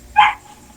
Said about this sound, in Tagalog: Ano mga aso yan?